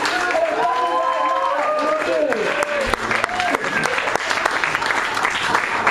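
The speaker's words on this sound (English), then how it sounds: "Give that round of applause, guys!" A crowd at a tribute music gig applauds loudly, with dense clapping mixed with cheers, whoops and voices throughout, steady and close for several seconds.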